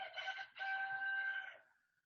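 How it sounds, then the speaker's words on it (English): A real rooster crows once, loud and close, the call briefly breaking before a long sustained note that trails off. "I heard that rooster, and that's not"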